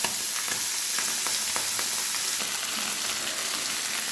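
Tangra fish, roe-filled river catfish, frying in hot oil in a pan, a steady dense sizzle with scattered pops and crackles throughout, close and continuous with no voices.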